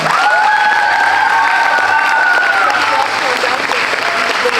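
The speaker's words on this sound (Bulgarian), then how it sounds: "Аплодисменти, моля." Audience at an amateur theatre festival awards ceremony in Kavarna applauds loudly and steadily, a dense wash of clapping with some crowd noise, continuous throughout.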